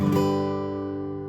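A single fingerpicked guitar chord on the three highest strings, from "Silent Night," rings out clearly and sustains, slowly fading with warm overtones.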